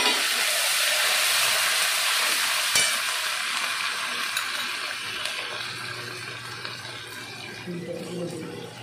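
Curry leaves hit hot oil in a pan for sooji (semolina) upma, setting off a bright, hissing sizzle. The crackle holds strong at first and then slowly settles, with faint stirring and a low murmur near the end.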